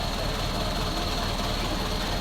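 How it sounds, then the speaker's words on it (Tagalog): An Isuzu 4HL1 diesel engine with a missing valve spring lock on cylinder 4 runs steadily and loudly up close, a constant dense mechanical clatter with ticking mixed into the engine drone. "Yun lang ho ang nakita ko, yung kulang ho ng isang lock, yung valve spring sa numero 4. Kaya ho malakas ho ang kanyang lagitik."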